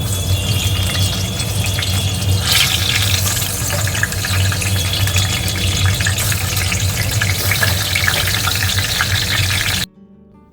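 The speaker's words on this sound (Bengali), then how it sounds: "তাই জন্য একটু বেগুন ভাজবো" Eggplant slices fry in a new wok with a steady, close sizzle that runs almost unbroken before cutting off abruptly near the end.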